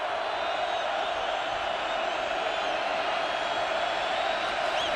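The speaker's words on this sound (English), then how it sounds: "Crowd trying to get the defense into this." A packed college football stadium crowd at Oklahoma during an Oregon game roars and cheers in a loud, sustained wall of noise with occasional whoops, unbroken for the whole stretch.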